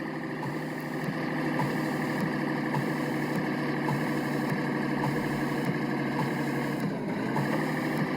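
Truck engine idling and rumbling at low speed in the Truck Simulator Ultimate video game, a steady droning hum that holds for the whole stretch, with a brief dip near the end as the truck shifts into reverse.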